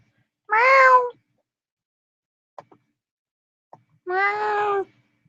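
Two drawn-out, harmonic meows, each lasting about half a second, separated by a quiet gap holding a few faint clicks; they could come from a cat or from a person imitating one.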